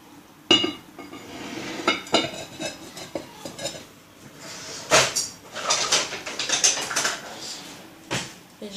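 Batter for Congolese beignets being mixed in a bowl with milk, giving close, uneven clinks and scrapes of a utensil against the bowl, with a few sharper knocks between softer stirring.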